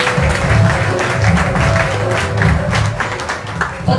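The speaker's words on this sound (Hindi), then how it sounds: "तो एक बार अपने आप के लिए जोरदार तालियां" Applause from an audience in a seminar hall at a large open business seminar, a dense, steady wash of clapping held for the whole stretch, fairly loud and close, with a faint voice mixed in.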